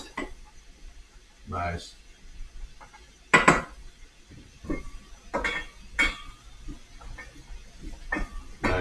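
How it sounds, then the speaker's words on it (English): Fettuccine with artichoke and pork is stirred in a pot with a spatula, giving scattered clinks and knocks against the metal, some louder than others, with a voice speaking briefly between them. "give that a big spin with the spatula"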